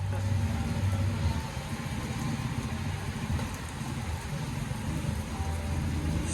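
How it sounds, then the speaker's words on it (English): Rain falls steadily outdoors in the Philippines, a broad even hiss with a low rumble that could be a car engine underneath. "Starting to rain."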